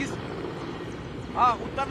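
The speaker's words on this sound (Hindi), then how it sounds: "किस तरीके से एक M17 जो है हेलीकॉप्टर वो लगातार चक्कर काट रहा है" An Mi-17 military helicopter circles overhead during an NSG commando and UP ATS mock drill in Lucknow, a steady low rotor rumble running throughout with a brief voice-like burst partway.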